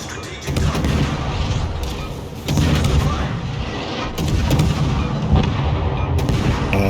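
Naval artillery gunfire from World of Warships, dense rolling booms and thuds layered continuously with brief bursts, loud and close throughout, with a faint voice in the background.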